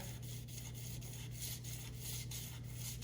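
400-grit sandpaper rubs back and forth over a 2JZ engine crankshaft from an SC300, a quiet steady rhythmic scraping with strokes roughly every quarter second.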